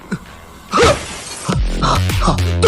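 Window glass shatters loudly as someone breaks out through it in an animated student-teacher scene, a sharp crash followed by scattering debris, with voices and a low thud around it.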